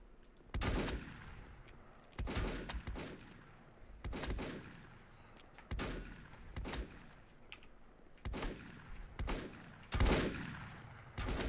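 Repeated gunshots from firearms in the video game Volcanoids, loud bursts arriving roughly every one to two seconds with ringing tails, six or so shots in a steady rhythm with no talking.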